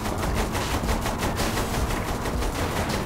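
Sustained automatic gunfire in the video game Saints Row: The Third, a loud, dense rapid rattle of shots continuing without pause throughout.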